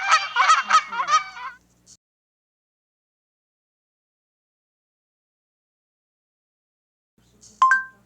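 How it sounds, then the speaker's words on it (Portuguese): A Canada goose honks in a quick, loud burst of several calls, then after a long silence a single shorter honk sounds again. "O ganso do Canadá faz assim."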